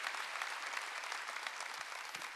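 Congregation applause at a Wednesday church worship service, a steady dense wash of many hands clapping continuously throughout, moderately distant and even in level with no talking.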